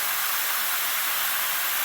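Brown stew beef sizzling in a pot gives a close, steady, loud hiss, like steam or spitting fat. It sounds the same throughout this short moment.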